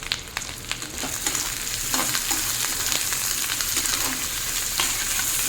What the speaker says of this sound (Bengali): এখন এর মধ্যে দেবো ছাড়িয়ে রাখা 4টে আমড়াটাও নাড়তে থাকবো